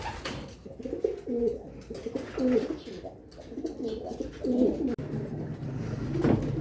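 Pigeons kept by a breeder coo repeatedly in soft, low, throaty phrases, several overlapping calls rolling on close by with a faint background hum.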